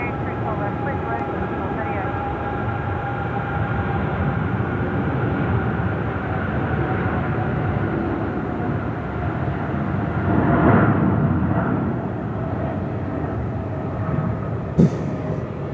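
A heavy airliner flown by a New Zealand crew takes off from runway 34 left at Sydney Airport, a steady broadband engine roar that builds and swells near the end, with a voice talking over it.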